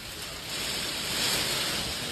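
Rough, turbulent ocean surf roars as a steady broadband wash, swelling slightly midway, with wind noise on the microphone and no voices.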